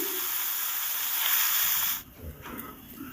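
Small rohu fish fry in hot oil in a wok, making a steady, bright sizzling hiss. The hiss holds evenly for about two seconds, then drops off sharply, leaving fainter crackles.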